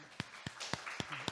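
A church congregation gives sparse, scattered claps to welcome visitors, six distinct separate hand claps at an uneven pace, fairly quiet, with faint murmuring between them.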